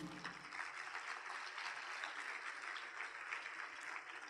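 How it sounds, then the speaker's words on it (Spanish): A church congregation applauds together, a steady wash of clapping that holds at an even level throughout with no voices rising above it. "Alguien dele un aplauso a Jesús"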